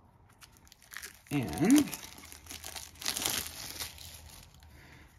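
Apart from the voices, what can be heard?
cutting open and unwrapping a board game's packaging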